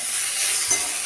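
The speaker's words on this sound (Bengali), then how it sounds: "ডিমের পরে শিমটাকে দিয়ে আমি একসাথে নাড়াচাড়া করছি এবং এটাকে এইভাবে ভাজা করে নেব।" Beans and egg sizzle in a pan with salt while being stirred, a brief steady frying hiss with one soft scrape, close and without talk.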